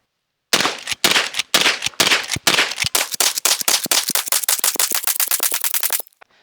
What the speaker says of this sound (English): get back on target and start shooting again